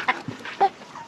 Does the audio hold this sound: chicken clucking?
yes